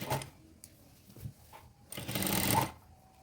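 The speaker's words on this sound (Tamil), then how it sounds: "அந்த பக்கம் நீங்கள் வச்சுட்டு முதல்ல ஸ்டிச் பண்ண ஆரம்பிக்கலாம்" Sewing machine stitching the neck of a shirt collar, with a couple of short faint bursts followed by a louder, sustained run of stitching lasting under a second, close with no talk.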